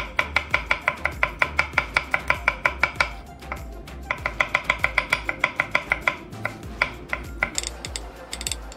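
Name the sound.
knife mincing garlic on a board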